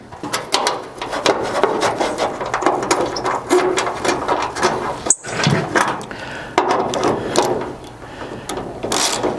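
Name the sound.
bolting a hood brace onto a Chevy Squarebody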